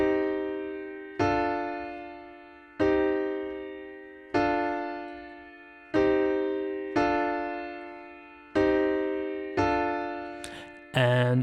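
A Dorian progression alternating a minor first chord with a minor second chord, struck in a slow even pattern about every one and a half seconds, each ringing and fading, ending with a brief noisy burst.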